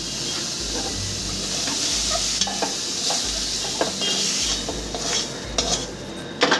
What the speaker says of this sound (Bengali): ঝিঙাটাকে আমি সুন্দর করে ভেজে নিচ্ছি